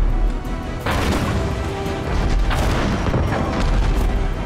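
Ship cannons firing in the Abandon Ship video game: two heavy booming blasts about two seconds apart over a dense, rumbling battle din, with no speech.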